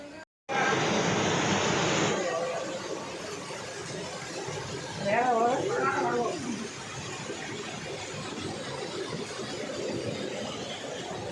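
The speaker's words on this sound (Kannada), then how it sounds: "ಇಲ್ಲೇ ಮ್ಯಾಲಿಂದ ನೀರು ಬೀಳ್ತೈತಿ, ಅಂದರೆ ಸಣ್ಣ ವಾಟರ್ ಫಾಲ್ಸ್ ಗತೆ" A small waterfall near a temple cave spills with a constant rushing roar of falling water, close and loud throughout. A brief voice rises partway through.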